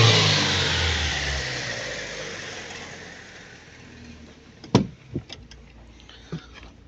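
A Daewoo Nexia engine running on LPG gas, a steady mid-pitched hum that slowly eases in level, then several short sharp clicks and knocks near the end.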